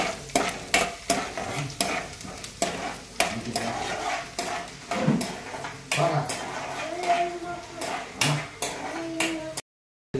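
Spices for curry leaf chutney sizzling and frying in a pan, with repeated scraping stirs and clinks of a utensil against metal, close and continuous.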